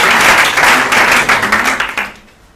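An audience in a hall bursts into loud, dense applause that holds briefly, then thins into scattered claps and fades out after about two seconds.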